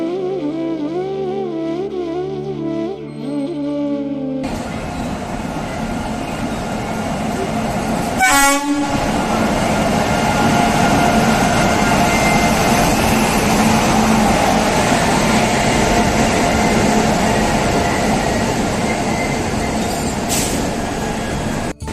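A train at Bhopal railway station, with loud rumbling rolling noise filling the platform and a sharp train horn blast near the middle, continuing steadily to the end.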